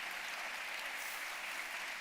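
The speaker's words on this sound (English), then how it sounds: "Can we give them a nice round of applause" Dense, steady audience applause fills a conference hall on the second day of Momentum 2025, a continuous close wash of many hands clapping with no voices heard.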